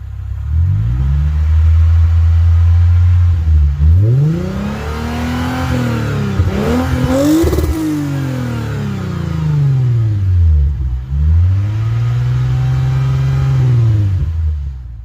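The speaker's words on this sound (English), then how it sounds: "Now I'm gonna rev a little bit, see what it sounds like." A Lexus IS350 engine revs repeatedly through an HKS Hi Power aftermarket exhaust, climbing and falling in pitch in several long sweeps, close and strong throughout.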